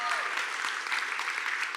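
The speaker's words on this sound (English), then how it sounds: "Can we give them another round of applause, please?" Church congregation giving another round of applause after the offering, a soft wash of many hands clapping at a distance, brief and even, with a faint voice underneath.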